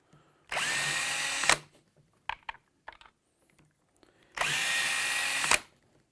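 A Frankford Arsenal electric case trimmer set to its top speed, 3, whirs loudly in two steady bursts of about a second each, with a few light clicks and taps of case handling between them.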